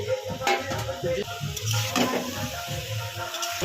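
Cumin-coriander paste and fried jackfruit and potatoes go into a pan for a Bengali jackfruit and prawn curry, with steady stirring scrapes and a soft sizzle, close and continuous throughout.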